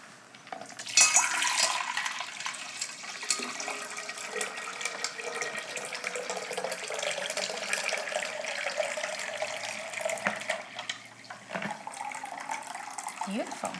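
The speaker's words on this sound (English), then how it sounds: "Let's pour it into a pitcher." Southern sweet tea is poured from a pot into a pitcher, a steady liquid splash and trickle that runs for several seconds with a faint glassy ring, fairly quiet and close.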